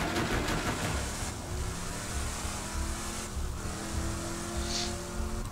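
A vehicle engine drones steadily in Borderlands 2, with loud, continuous motor roar and slight shifts in pitch as it drives along.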